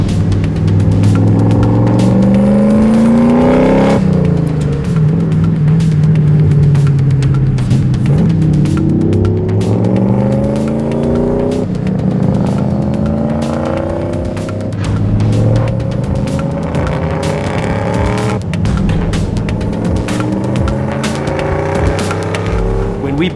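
A BMW E30 widebody with a supercharged 1UZ V8 revs hard through twin curled exhaust pipes, loud and close, with repeated rising and falling engine sweeps that climb and drop several times in a row.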